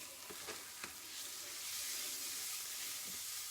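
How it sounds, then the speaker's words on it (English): Onions sweating in a pan with garam masala stirred through, giving a steady close sizzle and frying hiss that builds slightly, with a few faint scrapes of stirring early on. "And you want to sweat these onions off."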